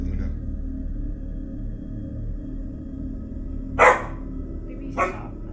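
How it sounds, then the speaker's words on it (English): A dog barks twice indoors in a quiet room at night, two short, sharp barks a second apart over a low background hum. "She's barking at the light."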